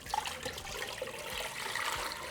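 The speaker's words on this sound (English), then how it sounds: "I'm going to cover it with water." Water poured over beef in an Instant Pot, a faint steady splashing and gurgling stream running the whole time.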